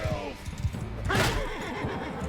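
A horse whinnies in the Mount & Blade II Bannerlord medieval combat game, one brief neigh in the middle of the clip over layered hoof and battle noise, at moderate loudness.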